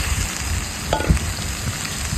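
Chicken frying with onions, a continuous close sizzle with a brief clatter of stirring partway through.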